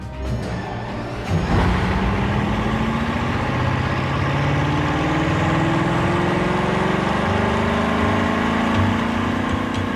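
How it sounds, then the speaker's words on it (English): A Bugatti Chiron engine runs on a test stand at full throttle, a loud, continuous mechanical drone with a rising tone after a sharp jump in level early on, then sustained without pause and without speech. "To prove the engine's metal, they run it for 25 hours straight at full throttle."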